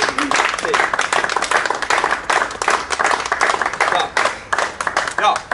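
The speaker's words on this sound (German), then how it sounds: "Applaus für mich." Audience applause at the unveiling of candidates and an artwork for an electoral list, a dense steady clapping that fills the whole stretch with small swells and dips.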